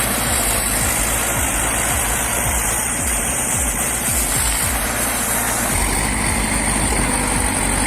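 A Soviet T170 diesel bulldozer crawling through snow in the woods, its low engine rumble steady and loud throughout with rhythmic clanking pulses from the tracks.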